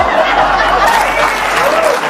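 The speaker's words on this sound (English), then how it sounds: "Terrible that you would applaud that." Audience applause at a talk show, a short loud burst of clapping mixed with a few chuckles, heard alone without anyone speaking.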